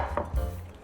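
A single knife stroke slices through the base of a clump of oyster mushrooms on a cutting board, one brief, close, soft thud-like cut.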